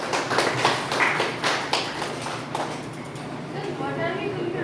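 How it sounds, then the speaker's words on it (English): Students in a hotel management institute briefing break into a round of applause, a burst of dense clapping that fades to scattered claps over several seconds, with talk alongside. "So let us give a round of applause for the learning that we had today."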